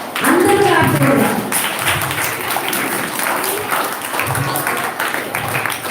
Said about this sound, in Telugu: గట్టి క్లాప్స్ తో ఇన్వైట్ చేద్దాం